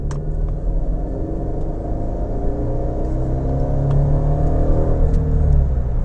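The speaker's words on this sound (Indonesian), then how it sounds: "kurang lebih bunyi mesinnya seperti itu" A Mercedes-Benz CLC 200 Kompressor engine hums steadily and rises slightly as it revs, a continuous low rumble with no talking.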